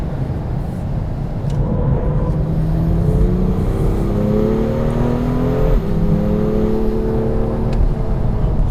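A 2016 BMW M2's turbocharged engine and exhaust drone from inside the car while driving, the tone climbing steadily under acceleration, dipping briefly at a shift and rising again, over constant road and wind noise.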